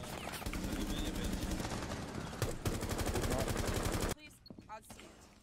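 Rapid gunfire from a Rainbow Six Siege match: a sustained rattle of fast, evenly spaced shots for about four seconds, cutting off abruptly to quieter scattered sounds and faint voices.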